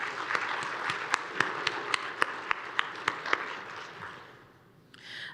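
An audience applauds community partner organisations at a public health event, steady clapping with a few sharp individual claps standing out, fading toward the end before a brief rise.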